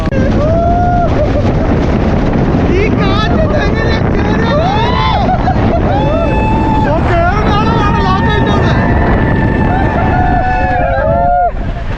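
Strong monsoon wind on a trek at Harihar Fort roars as a steady, loud buffeting rush close to the microphone, with people talking over it throughout.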